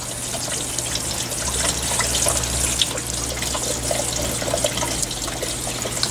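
Water sprays steadily into the drum of a Consul 16kg CWL16AB washing machine on a white clothes cycle, the weak household pressure giving a continuous hissing, splashing trickle with no talk.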